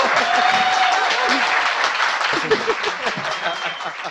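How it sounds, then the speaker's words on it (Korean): Audience applause fills a hall at the close of a political talk show segment: dense, loud clapping from a crowd, sustained and slowly thinning out toward the end, with a voice speaking over it. "박수 부탁드립니다"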